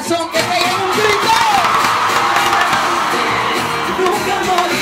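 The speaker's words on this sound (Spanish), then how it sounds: "Chavistas de corazón, que peguen un grito." A crowd at a political campaign march in Lara state, Venezuela, shouts and cheers in a loud, sustained roar of voices close by, with whoops rising out of the mass.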